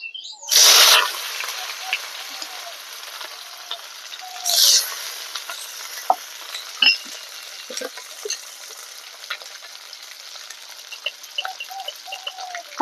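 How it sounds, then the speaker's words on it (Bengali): Bitter gourd frying in hot mustard oil in a wok with dried chilli and five-spice tempering, a sharp loud sizzle bursting twice near the start, then a quieter steady crackle with occasional stirring clinks. "ফোড়নটা হালকা ভাজা হয়ে গেলে দিয়ে দেবো উচ্ছে প্রথমে।"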